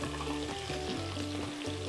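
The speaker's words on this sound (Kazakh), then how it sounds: "ет өзінің сөлін бөліп, ол сөлі тартылғанша қуырып аламыз." Meat fries in an open Redmond multicooker, letting off its juices: a short, quiet, steady sizzle with a faint electrical hum beneath it.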